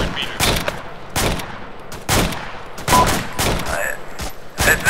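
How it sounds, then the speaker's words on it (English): Loud bursts of gunfire from a military video game, in several separate volleys a second or so apart, close and sharp, with faint voices in the background. "Who's shooting?"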